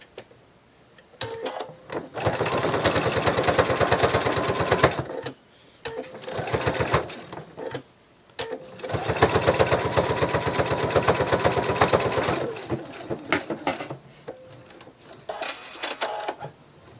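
A sewing machine stitches around the edges of a penguin plush in bursts of steady, rapid whirring, several runs of a few seconds each separated by short pauses, close and loud with no talking.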